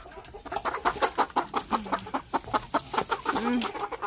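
Chickens cluck and chatter while eating moringa leaves, a steady, busy stream of short calls, close by, with faint background noise.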